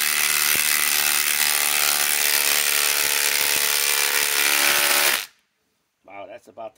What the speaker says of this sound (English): Now, a 10-inch lag. This is a pre-drilled hole.